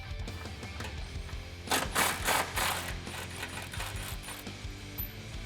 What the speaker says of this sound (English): grab an extension and your 13 and just pop these off